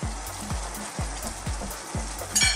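Fish laid onto a smooth mild masala in a hot pan sizzles loudly and steadily, with a series of rhythmic low thumps under the crackle and a brighter burst near the end.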